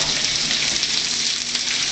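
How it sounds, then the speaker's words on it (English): Zucchini hits a hot pan in a garden stir fry, producing a loud, close, continuous sizzle with steady hiss and no talking. "now I'm just going to add the zucchini"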